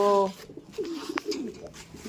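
A pigeon or dove gives a short, clear cooing call at the start, followed by soft rustling and faint background murmur.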